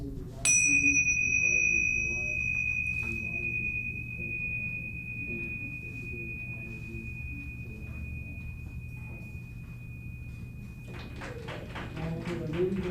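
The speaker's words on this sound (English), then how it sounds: "I'm going to ring this, but you're going to hear the sound after the chimes aren't touching" A single bright chime strike rings out and sustains as a long, steady resonant tone, fading slowly against a quiet background murmur.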